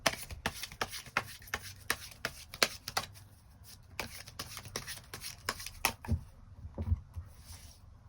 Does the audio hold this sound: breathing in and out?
no